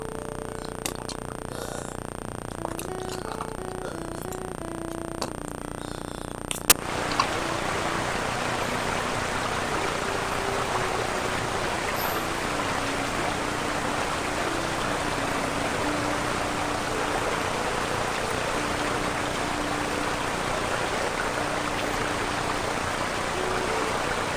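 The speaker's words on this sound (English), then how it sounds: "Cascade Creek, not falls yet" Cascade Creek, a mountain stream in Grand Teton, rushes with a steady, broad wash of water. It starts abruptly a few seconds in and continues at an even level.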